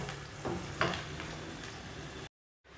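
Onion and garlic fry in a pan for a chicken shakshuka, giving a steady close sizzle with a few louder stirring scrapes. The sound cuts out abruptly near the end, then returns briefly.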